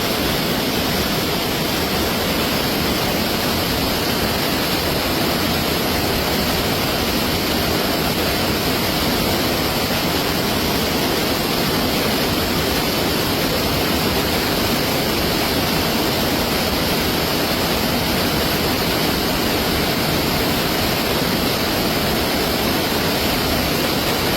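Loud, steady roar of a rushing flash flood from the hills fills the whole clip, a dense broadband churn with no voices and no breaks.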